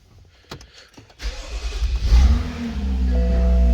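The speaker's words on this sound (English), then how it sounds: "we'll go ahead and start the car." A 2015 BMW X5 engine cranks and starts after a few faint clicks, settling into a steady, fairly loud idle close by with no talking.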